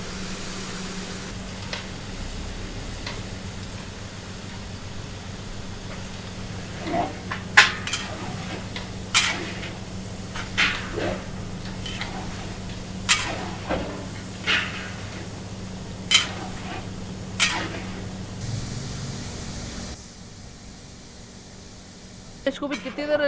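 About forty kilograms of fatty meat is turned in a huge pot for Kabuli pulao, a metal ladle scraping and clanking against the sides every second or two, with faint voices in the background.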